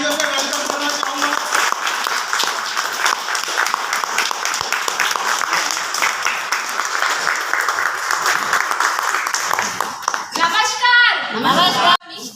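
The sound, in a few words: audience applauding to welcome a speaker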